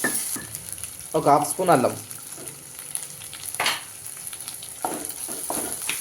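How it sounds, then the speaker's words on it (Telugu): Broad bean (chikkudu kaya) curry is stirred in a pan with ginger garlic paste, giving a soft sizzle with spoon scrapes under a woman's speech in Telugu, and the voice is louder in the middle. "మొత్తం కలిసే వరకు కలిపేసుకుందాం"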